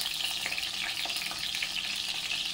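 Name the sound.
eggplant frying in hot oil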